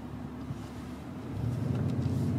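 A 440-horsepower car engine runs steadily with a deep low rumble that grows slightly louder and fuller toward the end, heard close and continuous with no talking.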